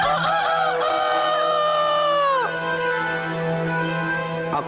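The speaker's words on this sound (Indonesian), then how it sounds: "Akulah ayam jago" Close, loud rooster crow in an Indonesian village drama, one long drawn-out call with falling tones followed by softer clucking, alone without speech.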